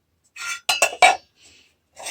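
Small brass pots and solid brass pieces from a community skip clink and knock as they are handled, giving a few close, bright metallic taps in quick succession, then a faint touch and a final clink.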